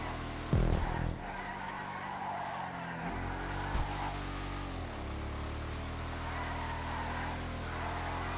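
Muscle car in GTA 5 Online sliding and skidding with a steady engine drone, a loud tire screech and thump near the start and another brief squeal midway, no talking.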